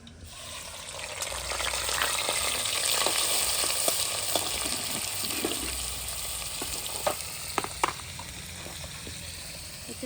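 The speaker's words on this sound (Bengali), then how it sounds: "চিংড়ি মাছটা ভালো করে ভেজে নেব।" Prawns fry in oil in a wok, giving a continuous, close sizzle and bubbling that swells early and then holds steady, with a few sharp pops near the end and no talking.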